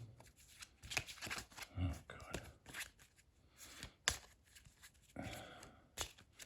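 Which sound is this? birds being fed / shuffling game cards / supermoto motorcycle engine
shuffling game cards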